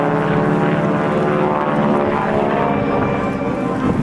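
A conventionally geared, tail-wheel propeller airplane flying at an air national guard open house airshow, its loud steady engine drone filling the air continuously and strongly throughout.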